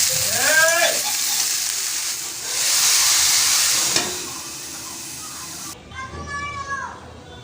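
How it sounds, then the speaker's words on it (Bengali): Cabbage and mixed vegetables fry in a pan with a steady, close broadband sizzle that swells midway, while someone talks over it near the start and end. "এখানে সবজিগুলো একটু ভেজে নিয়েছি আর বাঁধাকপিটাও এর সঙ্গে একটু ভেজে নেব"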